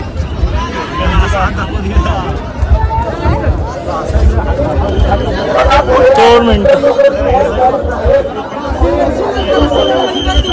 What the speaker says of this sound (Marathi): ही गर्दी तुम्ही बघू शकता, दाखवतो मी तुम्हाला गर्दी।